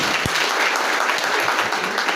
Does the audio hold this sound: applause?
yes